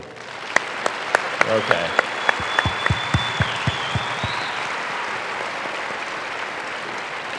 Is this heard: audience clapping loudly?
yes